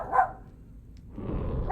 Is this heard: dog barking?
yes